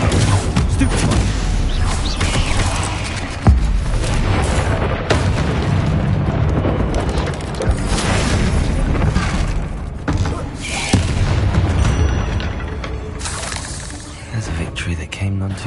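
Bombarda spell blasts in Hogwarts Legacy gameplay, heavy booms and bursts over a dense wash of game effects and music, with a voice talking intermittently throughout.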